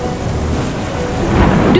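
A thunderstorm with heavy rain, a dense steady downpour with deep thunder rumbling loudly throughout and swelling toward the end, no voices present.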